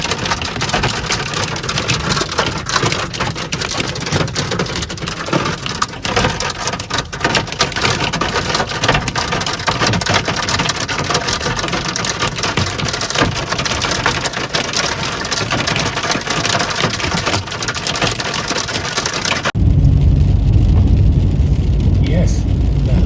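Heavy rain and hail from a Nebraska storm drum hard and continuously on a car, dense and loud, shifting to a deeper rumbling wash near the end.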